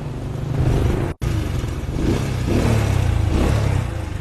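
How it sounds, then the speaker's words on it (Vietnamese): Older motorcycle with an original engine, fired up and running with a steady mid-pitched engine drone and slight revving, close and alone after a brief dropout near the start. "test nổ máy cho anh em cảm nhận"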